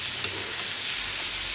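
Potato, tomato and dhekia fern greens sizzle in a pan as they are stir-fried, a short steady close hiss of frying with a faint scrape of stirring.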